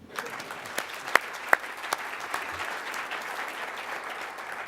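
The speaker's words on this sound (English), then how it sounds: "can you please have a round of applause for yourself?" A conference audience at Zeitgeist Europe 2009 claps for itself, moderately quiet, even applause with a few distinct sharp claps near the start.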